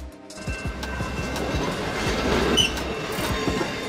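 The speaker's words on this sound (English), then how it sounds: "Electric locomotive, a train engine powered by electricity, typically drawn from overhead wires or a third rail." An electric locomotive train passes close by, its wheels striking rail joints in a quick, regular clickety-clack over a continuous low rumble.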